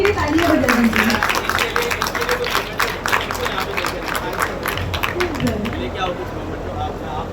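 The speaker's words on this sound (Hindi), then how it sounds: "एक बार जोरदार सर के लिए तालियां बजा दीजिए।" An audience at a Yoga Day celebration claps along under a loud announcer's voice, with crowd babble mixed into the steady rattle of applause.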